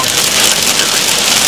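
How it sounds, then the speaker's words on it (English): Hail falling during a severe supercell thunderstorm with heavy rain and wind in Athens, Michigan, a dense, continuous rattling patter of ice hitting surfaces, loud and steady with no voices. "we're getting hail now"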